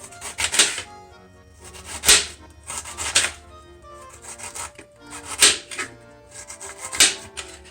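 Knife slicing through fennel stalks on a cutting board, a series of crisp, close chopping cuts in irregular bursts with short pauses between them, no talking.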